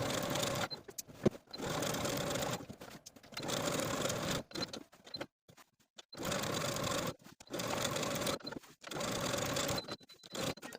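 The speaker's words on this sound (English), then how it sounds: "sew once again all the way around with a 1/4 inch seam allowance" A sewing machine stitches around the edge of an apron with a quarter-inch seam allowance. It runs in several bursts of steady close whirring, broken by short pauses and one near-silent gap, with no voices.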